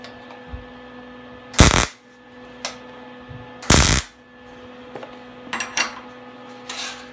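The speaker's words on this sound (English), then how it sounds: "you tack weld them to the legs" Scrap metal pieces being tack welded together, heard as two loud, short bursts of sharp crackling a couple of seconds apart, then several fainter clicks and brief crackles over a steady electrical hum.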